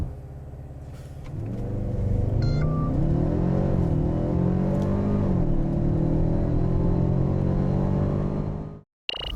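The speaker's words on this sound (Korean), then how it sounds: "GLB 250 포매틱 과연 가속 성능은 얼마나 되는지" A 2021 Mercedes-Benz GLB 250 4MATIC accelerates hard from a standstill during a performance run, its engine climbing through several gear changes with a steady rising drone that stays loud before cutting off abruptly near the end.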